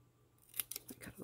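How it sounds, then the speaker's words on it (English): A few crisp, quick snips of scissors cutting through paper, close and fairly quiet against a faint background hum. "just trim with scissors"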